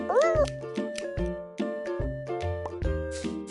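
A short, high cat meow opens a mobile pet game scene, followed by bouncy tonal game music and jingly chimes, with no talking.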